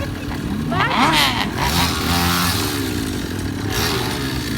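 A motorcycle engine runs steadily close by at a wheelie bike meet in Itaquera, São Paulo, its rough idle rising slightly at moments, while voices talk over it.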